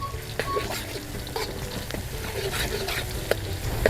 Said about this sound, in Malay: So kita tumis sehingga bawang ni sedikit garing lah.